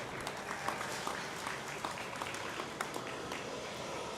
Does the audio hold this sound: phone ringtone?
no